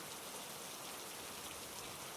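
Steady rain pouring down over a forest in an animated story, a constant dense hiss of falling drops with no voices, even and unbroken throughout.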